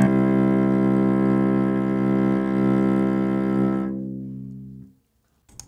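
A cello sustains a single low C with vibrato, recorded on one microphone, a rich bowed tone that holds for about four seconds and then fades into silence.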